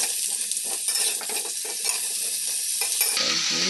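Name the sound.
mango pieces frying in mustard oil with panch phoron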